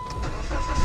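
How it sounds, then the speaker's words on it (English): A used car at an auto auction preview fires up, its engine catching with a rough low rumble that builds louder through the short moment; the car has an exhaust leak and lots of rattles. "So I'm gonna hop in this one, fire her up."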